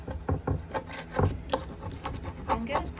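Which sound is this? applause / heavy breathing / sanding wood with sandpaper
sanding wood with sandpaper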